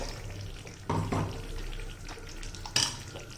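Tomato pickle frying in a pan and being stirred, a low continuous sizzle with a few soft scraping knocks from the spoon.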